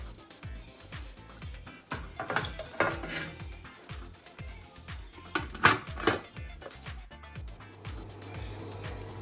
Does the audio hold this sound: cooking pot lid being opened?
yes